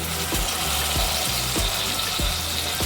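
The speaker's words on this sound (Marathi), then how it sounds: "तेल सुटेपर्यंत आता हे तळून घ्यायचं" Tomato and onion frying in oil with turmeric and red chilli for a spicy chicken sukka, a steady broadband sizzle with a few soft thuds of stirring spaced about a second apart, close and continuous with no talking.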